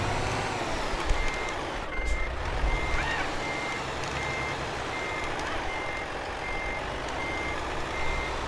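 Truck in Euro Truck Simulator 2 reversing to park, with evenly spaced reverse-warning beeps repeating about once a second over a steady engine rumble and occasional air-brake hiss.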